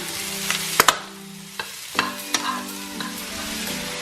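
Coconut oil sizzles steadily as food fries, with a few sharp clinks and scrapes of a utensil stirring in the pan.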